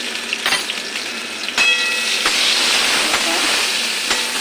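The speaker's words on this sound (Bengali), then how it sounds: "বেগুনটা ভালো করে ভাজা করে নেবে তোমরা" Eggplant with salt and turmeric sizzles and hisses steadily in hot oil, with a few sharp clinks of a utensil against the pan.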